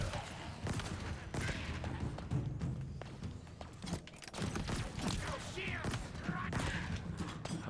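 Gunfire in Halo Infinite, a steady stream of rapid, sharp shots and impacts over several seconds at moderate level, mixed with game noise and someone talking in places.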